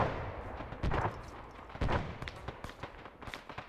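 Grenade explosions go off in a military video game as a few muffled, heavy booms spaced about a second apart, moderately close, amid rumbling background noise.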